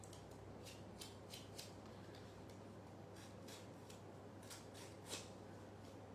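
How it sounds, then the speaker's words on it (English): Scissors snip and scrape along the edges of a paper banner in quick, soft, irregular cuts over a faint background hum, close and quiet. "Nearly cut it with my scissors."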